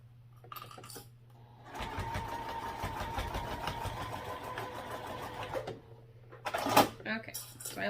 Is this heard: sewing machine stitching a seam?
yes